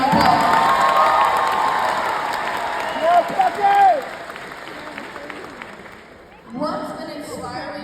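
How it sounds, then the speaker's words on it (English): Graduation ceremony audience in New Orleans bursts into loud applause and cheering with shouts, a dense crowd roar that fades and then swells again. "Let's give them one more huge round of applause."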